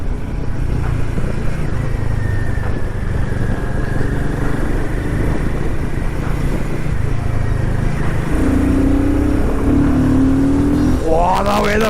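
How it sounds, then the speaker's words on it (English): A Royal Enfield 450 motorcycle engine drones steadily up close, its low grunting rumble rising in pitch as it accelerates near the end. "the way the machine grunts"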